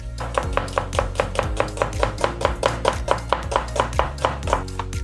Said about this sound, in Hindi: तो आइए पहले काटेंगे हम प्याज को।